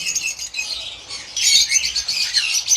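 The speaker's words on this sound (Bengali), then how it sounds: "এখানে আছে রেড হেড আপার লাইন লাভবার্ড পাখি সুপার কোয়ালিটি এবং বিগ সাইজের লাভবার্ড পাখি" Red-headed opaline lovebirds squawk and chirp in harsh, overlapping bursts, louder and denser after the first second, with no talking.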